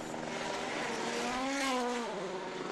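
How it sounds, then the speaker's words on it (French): Rally car at full speed over a crest at Rally Finland 2013, its engine note climbing in a loud, steady howl with rising harmonics, close and continuous, no talk over it. "La voiture qui part en wheeling sur le sommet, la vitesse, magnifique"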